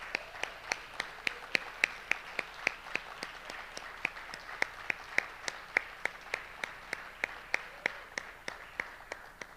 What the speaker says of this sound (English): Let's give them a big round of applause for all the work they do.